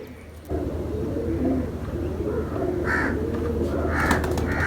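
Racing pigeons of the Black Horse breed in a Lahore loft, soft cooing calls rising in a few short bursts over a steady low hum of the surroundings.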